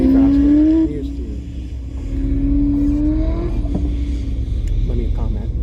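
Dexter's truck, a third-generation project vehicle, drives a race course in the rain, its engine rumbling loud at first, then dropping and building again with shifting pitch as it accelerates.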